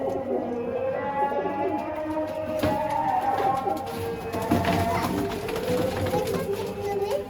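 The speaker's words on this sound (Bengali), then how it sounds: "সাবচিলা লাইনের কবুতর" Sabchila line pigeons kept at a home loft give repeated soft, throaty coos with overlapping calls from other birds, steady and close throughout.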